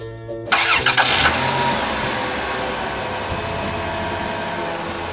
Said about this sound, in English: Ice cream van, ice cream van.